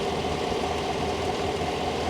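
An SUV engine idles with a steady low hum and a slight misfire, a continuous close drone with faint uneven pulses running through it.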